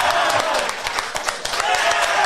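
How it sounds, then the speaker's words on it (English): A small podcast audience claps in a brief burst of applause, close and fairly lively, with a voice talking over the clapping. "Round of applause for Shaz."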